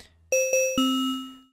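An FM synth carrier base wave tone in the Citrus plugin in FL Studio: three clean, bell-like notes struck in quick succession, the last lower and sustained before fading out, with no one talking.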